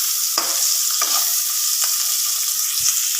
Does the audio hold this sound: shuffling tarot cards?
no